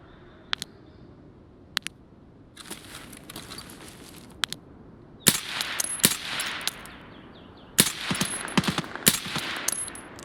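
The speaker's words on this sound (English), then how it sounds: "we hear gunshots" Sharp gunshots crack out in Escape from Tarkov, sparse single shots at first, then rapid bursts of automatic fire, with no talking.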